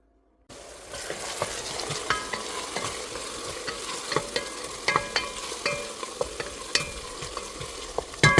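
Food sizzles steadily in olive oil in a pan, with repeated scraping and clinking strokes of a stirring utensil over the continuous frying hiss, loud and close, with no voices.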